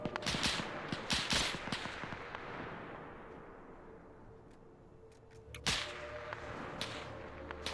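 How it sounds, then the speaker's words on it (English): A machine gun in a World War II Winter War video game fires in sharp, cracking bursts, several quick shots at the start and again later, with a fading echoing tail between. "one of those machine guns started firing heck far"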